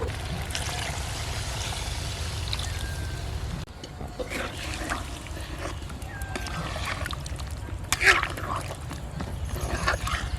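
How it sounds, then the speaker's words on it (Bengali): Water poured into a pan of thickly fried-down mutton curry to make the gravy, village-style cooking; a steady splashing trickle runs throughout over busy background noise, with murmuring voices and a possible dog nearby. "এখন ঝোলের জন্য জল দিয়ে দেব"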